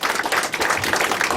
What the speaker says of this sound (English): Come on, everyone clap and stand up.